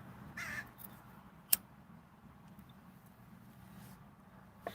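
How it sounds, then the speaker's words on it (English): Crows caw faintly in the distance outdoors, with a couple of short calls early on over a quiet background hum, plus a sharp click partway through. "We got some crows visiting us."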